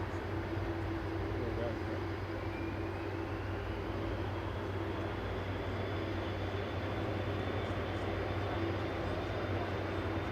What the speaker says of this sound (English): Here's Fly Pigs coming in from Antalya with flight 5815. TCNBY is an A320neo 6-year-old aircraft.